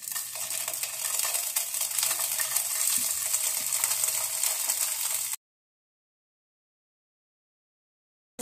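Paneer frying in hot ghee gives a loud, dense sizzle for about five seconds, with faint low knocks under it, then cuts to silence.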